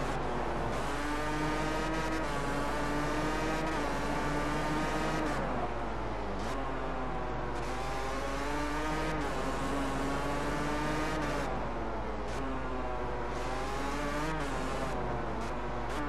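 A racing motorcycle engine in the video game MotoGP 14 revs and shifts continuously, rising and falling in pitch through repeated accelerations with a steady loud drone and no voices over it.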